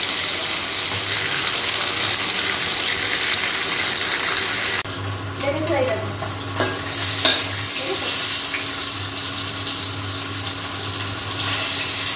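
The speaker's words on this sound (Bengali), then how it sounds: "এবার এক এক করে গরম তেলের মধ্যে মাছগুলোকে ভালো করে ভেজে নেব।" Fish frying in hot oil in a wok, a steady broadband sizzle running throughout, briefly shifting midway with stirring and a few clinks of utensils.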